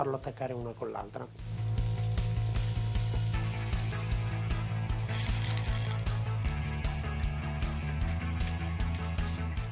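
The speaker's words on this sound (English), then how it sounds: "we take a pan and pour extra virgin oil. Let's take our oil to 160 degrees. Let's put our garlic in it like little chips" Garlic sliced into thin chips fries in extra virgin olive oil heated to about 160 degrees, giving a continuous bright sizzle with light clinks of a fork nudging the slices apart, close and fairly loud after a brief quieter start.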